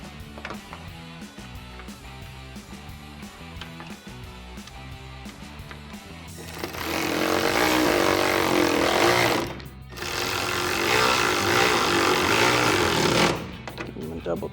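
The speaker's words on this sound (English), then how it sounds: "And finally, you want to reinstall your two 8mm bolts." Power tool driving two 8mm bolts back into a 2015-2017 Ford F-150 tail light housing, heard as loud sustained whirring bursts after a stretch of lighter activity, with a short break between two long runs.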